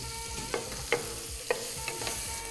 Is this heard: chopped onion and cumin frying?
yes